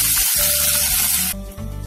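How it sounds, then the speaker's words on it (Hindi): Paneer hits hot oil in a pan with a loud, continuous hiss and sizzle heard close up, which drops off sharply near the end as the frying settles. "और तेल ऐड होते के साथ ही हम जो है इसमें पनीर ऐड कर देंगे।"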